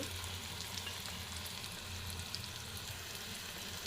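Fish roe frying in a pan with turmeric and salt, a steady close sizzle and crackle that carries on evenly without any pause.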